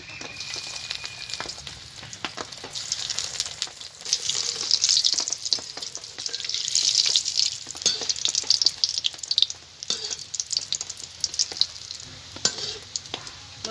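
Bombay duck (lote fish) fingers coated in egg batter fry in hot oil over a low flame, giving a steady, bright sizzle with crackling bursts that swell and ease throughout, close and fairly loud with no talking.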